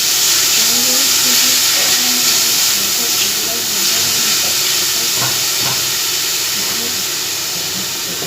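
Chopped onion sizzles in a small splash of oil in a pan, making a steady, loud hiss with faint crackles throughout, alone and fairly close.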